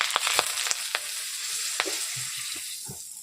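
Cloves, a cinnamon stick and a bay leaf sizzle in a small amount of hot oil in a pan, a steady close crackle broken by sharp pops and light stirring clicks.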